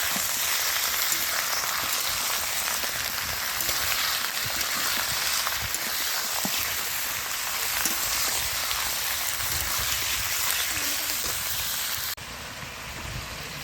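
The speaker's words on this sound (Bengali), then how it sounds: "তো এবার মাংসটা দিয়ে দিচ্ছি" Meat frying in a hot pan on a reduced flame, a steady dense sizzle and crackle that runs unbroken throughout and softens slightly near the end, with no talking.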